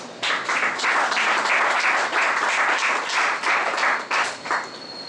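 A seated audience at the Vive Haïti Livre book festival applauds, bursting into fairly loud, lively clapping that rises quickly and pulses steadily for about five seconds with no talk over it.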